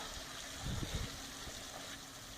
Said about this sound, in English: Here's one of those waterfalls.